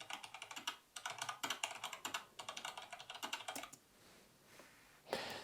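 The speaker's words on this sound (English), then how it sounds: "we want a typing effect" A keyboard typing sound effect added in CapCut: bursts of quick, crisp key clicks in uneven runs, pausing briefly, then a final louder clack near the end, with no talk.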